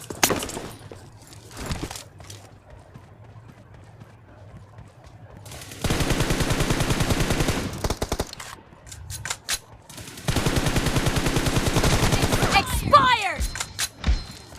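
Automatic gunfire in the mobile game PUBG Mobile erupts in two long sustained bursts with scattered single shots between, loud and close against quieter game ambience.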